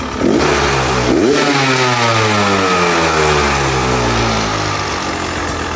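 The two-stroke engine of a 2025 Beta 250 RE dirt bike with a stator failure revs hard and close, climbing and falling in pitch with a loud buzzing rasp.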